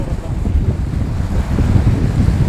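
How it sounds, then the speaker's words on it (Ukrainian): Strong storm wind sweeps across a lake at Prylbychi during an extreme fishing tournament, a loud, steady roaring buffet that hits the microphone continuously for the whole stretch, with no voices. "Самий потужний вітер 10 метрів."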